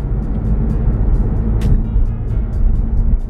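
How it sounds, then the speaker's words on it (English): A rented moving truck approaching, heard as a loud, steady engine rumble with road noise and faint periodic ticking, close by and unbroken by talk. "Here's the truck, y'all, there she go, finally."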